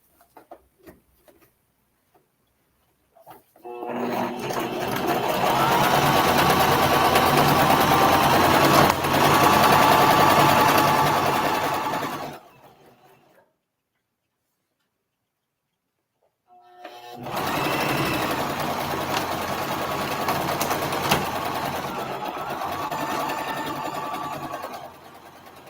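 Sewing machine stitches fabric for a foundation paper-pieced flower quilt block in two sustained bursts, about eight seconds and then nine seconds long, split by a few seconds of silence, loud and close with no talking.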